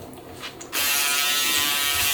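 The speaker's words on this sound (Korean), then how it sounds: "전기면도기는 원래 잘 안 돼서 자기 전에 한 번 하고 일어나서 한 번 더 해요" An electric shaver switches on after a brief quiet moment and keeps up a loud, steady, close buzzing with no one talking.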